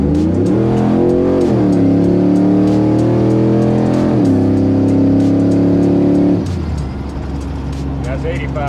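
Stock LQ4 6.0 Silverado pickup pulling hard from a 35 mph roll, loud close V8 engine note climbing through gear shifts before easing off, with someone talking over it.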